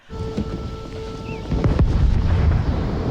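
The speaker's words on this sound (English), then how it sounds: "6-pounders. No, it's not fireworks, you guys." Six-pounder cannons fire in a war film scene, producing deep, rumbling booms over a windy, roaring background. A low hum gives way to a heavier blast cluster around the middle, with no speech.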